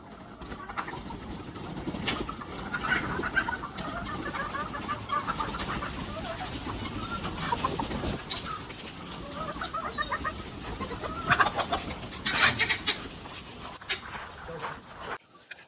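Hens in a netted backyard poultry coop for about 500 birds, clucking and cackling repeatedly at close range, with other birds and a distant dog mixed in and a person talking over the flock.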